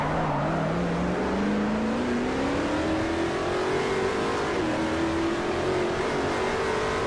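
A Koenigsegg in a Forza Motorsport 4 race revs loudly and climbs steadily in pitch as it accelerates, with a brief dip and recovery, constant and close throughout.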